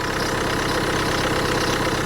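A cold diesel engine idles steadily up close, a loud, even rumble with a rhythmic knocking chatter and no talking: a 2014 Opel Insignia 2.0 diesel with 177,000 km, in winter.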